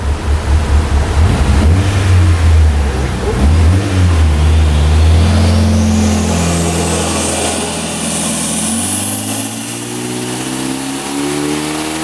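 A Mitsubishi Evo 8 engine screams through a dyno pull, loud and close, revving steadily higher with rising harmonics before easing off to a lower drone near the end.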